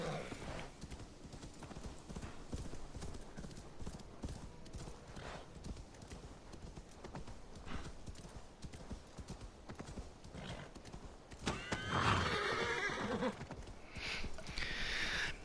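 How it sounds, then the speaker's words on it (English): Horse hooves clip-clop steadily in the video game Assassin's Creed Valhalla, with a neigh and brief louder burst of movement near the end over a continuous ambient game background. "let's go ahead and hop on the horse now"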